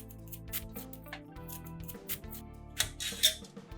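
A bitter gourd (karela) is peeled with a blade in irregular scraping strokes, close and fairly quiet, with a few sharper rasps near the end.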